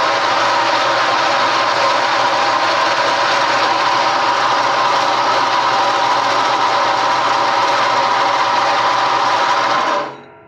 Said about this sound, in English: So let's head over to the bandsaw.